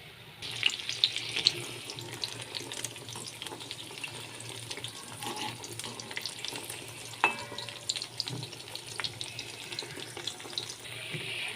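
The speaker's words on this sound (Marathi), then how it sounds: "तर आता हे वडे आपले तयार झालेले आहेत मी काढून घेते" Methi vada fritters fry in oil in a home kitchen with a faint, continuous sizzle. Splashy clinks and rustles from handling the pan are mixed in, and no voices are heard.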